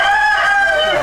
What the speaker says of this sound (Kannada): ಬೆಳಿ ಮೂಡ್ತವೆ, ಕೋಳಿ ಕೂಗ್ತವೆ